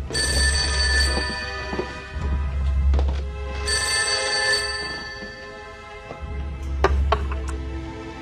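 An old-fashioned telephone bell rings loud and close in bursts, each long electric trill separated by short pauses, repeating three times with no one speaking over it.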